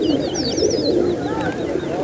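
Soft, low pigeon cooing drones steadily throughout, with sharper chirps and whistles from smaller birds scattered above it.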